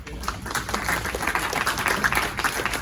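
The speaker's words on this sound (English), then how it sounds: "How about a nice round of applause?" A crowd at a property owners association meeting on West Galveston Island applauds, a steady wash of many hands clapping at moderate volume with no talk over it.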